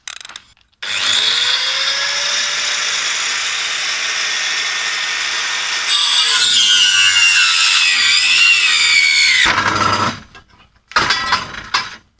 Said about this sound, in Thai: พอเราตัดไม้ใกล้จะขาดเนี่ย ไอตัวไม้เนี่ยมันจะหนีบฟันเลื่อยนะครับทำให้หินเจียเนี่ยสะบัด